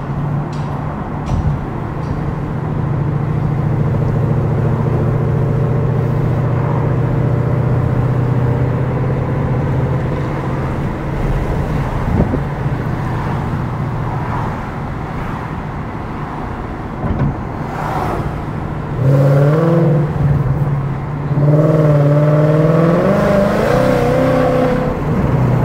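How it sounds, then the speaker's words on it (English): A supercharged 2021 Mustang GT engine drones hard at a steady pitch for a long stretch under hard acceleration, then revs climb in rising sweeps near the end, loud and close. "Very hard pulling car."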